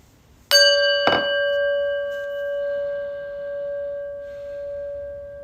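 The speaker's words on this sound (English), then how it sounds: "And listen to a prayer bell." A prayer bell struck once, a bright metallic ding followed by a softer second tap, then a long pure ringing tone that slowly fades with gentle wavering, close and alone in a quiet room.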